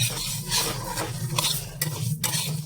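Mung dal lentils dry-frying in a pan on a gas stove, close scraping and stirring strokes over a low steady sizzle with a hum of the burner, brief rattles of a spatula against metal.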